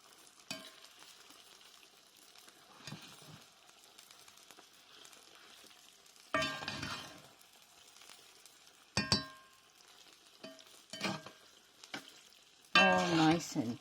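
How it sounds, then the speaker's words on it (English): Mac and cheese stirred in a pan with light frying sizzle, quiet scraping passes punctuated by several sharp utensil clinks and clatters against the pan, with occasional short bursts of louder stirring. "we're just going to stir it through very nicely in here"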